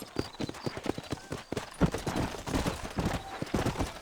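Horse hooves in the western game Red Dead Redemption, a steady rhythmic clip-clop of a trotting horse heard close and continuous throughout, with faint background ambience.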